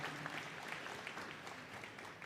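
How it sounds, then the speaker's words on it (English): Audience applause in the Crufts dog show arena during the Scruffts semi-final, a steady wash of clapping filling the hall at a moderate, even level throughout, without talk. "Ladies and gentlemen, a big round of applause."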